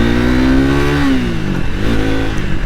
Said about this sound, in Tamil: இப்போ பாருங்கள், இன்னொரு ரேவ் வந்து கொடுத்து பார்ப்போம்.